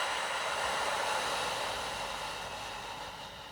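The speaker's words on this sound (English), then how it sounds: "And then blow out through a pinhole, through the lips, and this is a cleansing breath." A slow cleansing breath is blown out through pursed lips, a steady, close airy hiss that holds for several seconds and gently fades, with no talking.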